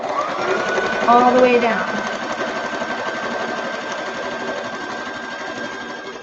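A sewing machine runs steadily with a fast, even whirring stitch, while a person speaks briefly near the start.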